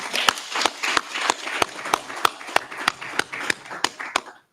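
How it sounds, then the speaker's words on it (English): Lecture audience giving a round of applause at a university public lecture: a string of sharp, evenly spaced claps at a quick steady rhythm, distinct and fairly close, fading out at the end. "I think we should give him a round of applause again."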